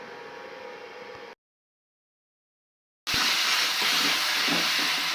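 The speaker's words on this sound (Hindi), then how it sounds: "यहाँ दोस्तों मैं छोक रही हूँ" Spices hit hot oil for a tadka and crackle loudly in a kitchen, with a steady sizzle, then a sudden silence, then a louder, denser sizzle that fills the rest.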